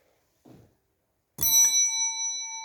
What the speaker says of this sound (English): Nice little dingle of the bell.